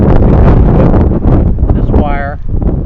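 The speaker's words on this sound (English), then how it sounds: "it's kind of windy out here, so hopefully you hear me." Outdoor wind buffets the microphone with loud, low rumbling gusts under a voice, easing near the end, beside garden landscape lighting being repaired.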